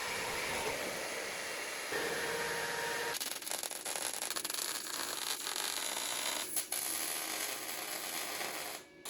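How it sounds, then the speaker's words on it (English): A drill grinds through sheet metal, making plug-weld holes in a drawer panel for a workshop cart, a close, continuous harsh rasping that shifts and pauses briefly between holes. "Drill holes around the inner edge for plug welding the sheets to the frame."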